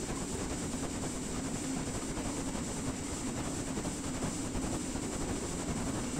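A New Zealand JA Class steam locomotive in Train Sim World 2022 gathers speed on a downhill run, giving a constant loud rumble with rapid, even chuffing and rail noise and no pauses.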